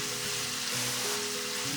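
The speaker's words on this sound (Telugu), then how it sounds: "పండు మిరపకాయలు వేస్తూనే స్టవ్ సిమ్లో పెట్టేసుకోండి" Ripe red chillies sizzle in hot oil on a low flame for a chilli pickle, a steady close crackling hiss with soft stirring scrapes throughout and no talk.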